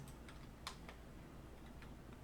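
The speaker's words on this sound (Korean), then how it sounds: "클릭 엔터입니다" Sharp, quiet clicks of a computer mouse and keyboard keys, including an Enter press, come as a few scattered taps over faint room hiss.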